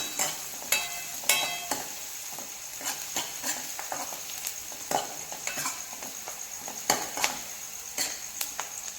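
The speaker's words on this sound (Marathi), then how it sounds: "आता इथे कांदा आपल्याला फक्त दोन मिनिटच परतवून घ्यायचा आहे आणि ते गॅसचे फ्लेम हाय आहे हाय फ्लेमवरती" Onion sautéing in a pan over a high gas flame, steady close sizzling with frequent clinks and scrapes of a spoon stirring against the pan.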